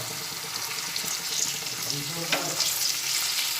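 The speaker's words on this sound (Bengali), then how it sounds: "কিছুটা কাজু বাদাম আর কিশমিশ দিয়ে ভেজে নিচ্ছি" Cashew nuts and raisins frying in hot oil in a pan for fried rice, giving a steady close sizzle and hiss with faint stirring clatter throughout.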